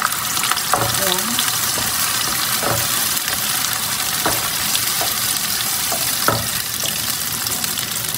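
Coconut milk poured into garlic sizzling in a hot pan, loud steady frying hiss with a few clinks of a utensil, and a brief spoken word.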